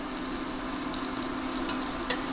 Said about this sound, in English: we're going to start by grilling, I guess you'd call it, some lemon slices